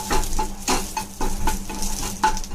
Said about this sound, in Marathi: तो कांदा आता थोडासा भाजून घेते हलका.